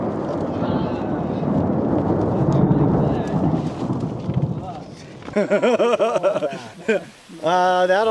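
Thunder from a lightning storm rolls in as a long, loud rumble while hikers shelter on exposed cliffs, fading before people exclaim over it.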